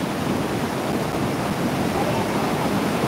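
Strong river current rushes with a dense, constant roar of churning water, loud and close throughout, while people try to cross; a voice may be faintly present under the noise.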